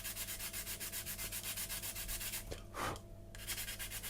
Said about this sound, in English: basically smooth it down with your sand and stick first of all